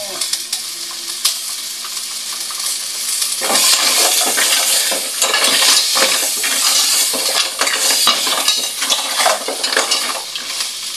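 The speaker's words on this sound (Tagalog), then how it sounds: "Atin ang ginigisa ang ating tahong." Mussels sautéing in a hot pan for Filipino tinolang tahong, a steady crackling sizzle that swells after a few seconds, with a spoon stirring and scraping against the pot close up.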